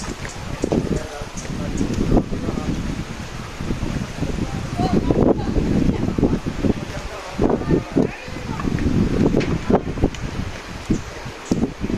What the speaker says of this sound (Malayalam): സൂപ്പറായിട്ടുള്ള കാറ്റ്, നല്ലൊരു കാറ്റ്